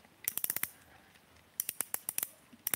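An aluminum star drag on a BFS fishing reel is turned, producing a crisp burst of rapid clicking ratchet ticks, a pause, then another run of evenly spaced clicks, close and clear.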